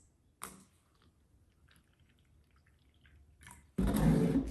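Water poured into a cup of ground-up tea leaves, a sudden loud close-up splash and gush of liquid that begins near the end after a brief clink and quiet handling.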